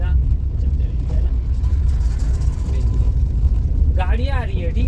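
Steady car engine and road rumble from inside a moving vehicle during a learner driving lesson, continuous and moderately loud, with an instructor's voice talking toward the end.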